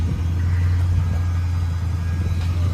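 A 1998 Pontiac Firebird with a 5.7-litre LS1 V8 and straight-piped dual exhaust idles nearby, a loud, steady low rumble with a deep constant hum.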